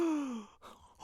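A voice imitates an audience gasping at a wedding: one drawn-out, falling, breathy gasp, close and alone, followed by softer breaths.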